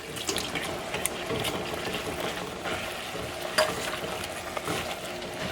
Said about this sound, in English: That cream started boiling, just boom.